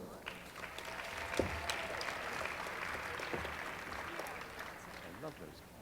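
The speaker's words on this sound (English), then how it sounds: "I love those claps" Steady broadband clapping from a graduation ceremony crowd, continuous and moderately loud across the whole stretch, with a few sharper individual claps and faint voices mixed in.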